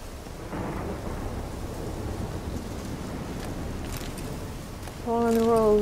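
Thunderstorm in The Witcher 3 video game, a steady roar of rain and rumbling thunder running throughout, with a louder tonal game sound breaking in near the end.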